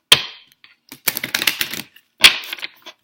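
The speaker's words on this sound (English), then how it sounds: "let's put one more card for you guys" A tarot card is drawn and laid down on a table in a few sharp taps and slaps, with short shuffling and sliding between them, near and fairly loud with no talking.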